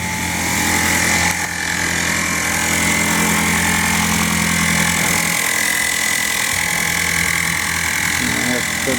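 An electric air suspension pump on a 1929 Chrysler runs steadily to inflate self-leveling air bags, a loud continuous mechanical drone with a sharp start, while someone talks over it.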